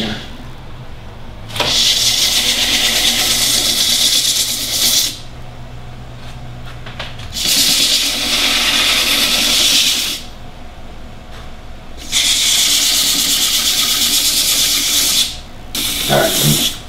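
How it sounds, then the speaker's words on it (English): A wooden hollow vessel spinning on a woodturning lathe gets sanded in three loud, steady hissing passes, each lasting a few seconds, with the motor hum continuing between them; no voices. "I'm just going to sand it"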